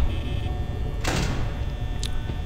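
Security door in Five Nights at Freddy's sliding shut with a short metallic whoosh and thunk over a constant low room hum, followed by a faint click.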